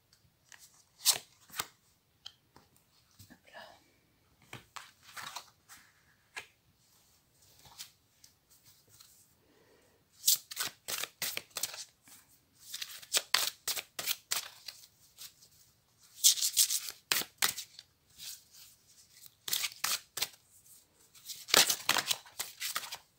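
Tarot cards being cut and shuffled by hand: a few soft, scattered riffles and taps at first, then dense bursts of crisp, close card flicks and slides in quick runs, with no talking.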